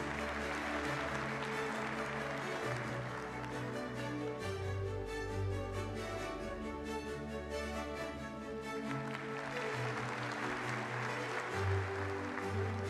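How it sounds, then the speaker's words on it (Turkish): Steady applause from an audience as someone is invited on stage at a TV show, a continuous wash of clapping lasting throughout with background music underneath. "Alkışlarınızla sahneye davet ediyoruz."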